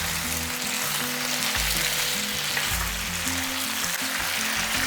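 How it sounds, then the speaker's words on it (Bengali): Ridge gourd, potato and lentil-dumpling vegetable mixture frying in a pan over high flame, a steady close sizzle with intermittent low knocks and scrapes of stirring throughout. "এরপরে এই পুরো মিশ্রণটাকে একটু হাই ফ্লেমে রেখে ভাজা ভাজা করে নেব।"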